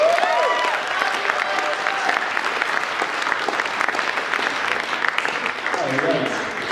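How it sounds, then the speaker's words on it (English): A convention crowd at Sakura-con claps loudly and continuously for an Android 18 cosplayer, with scattered cheers and voices mixed into the dense applause. "Let's give a big round of applause for Android 18."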